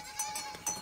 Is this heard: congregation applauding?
no